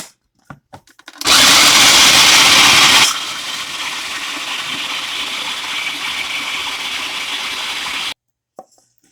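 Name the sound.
food processor grinding biscuits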